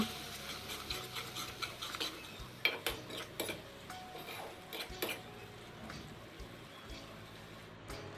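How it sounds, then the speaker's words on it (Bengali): Poppy seed and mustard paste being stirred into fried tomato for a vegetarian okra dish, with soft scraping and clinks of a spatula against the pan in an irregular rhythm, fairly quiet and close. "এখন এটার মধ্যে আমরা যেটা পোস্ত আর সর্ষের বাটা করেছিলাম ওইটা অ্যাড করে দেব অ্যাড করে ভালো করে মিক্স করে নেব"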